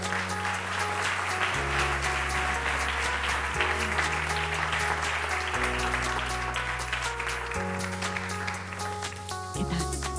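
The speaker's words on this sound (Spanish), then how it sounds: "Le dais un aplauso." An audience claps at a ceremony marking the 25th anniversary of the Ramón y Cajal research program. The sustained applause runs steadily under music throughout.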